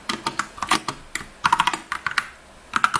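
Fast, close clattering of a computer keyboard, with bursts of rapid keystrokes separated by brief pauses, loud and alone in a quiet room.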